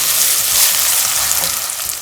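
Sliced garlic and curry leaves sauté in a frying pan, giving a loud, close, continuous sizzle with no voices.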